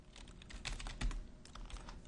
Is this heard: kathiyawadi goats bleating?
no